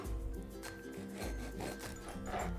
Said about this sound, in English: to use a serrated knife, that way you don't smush your bread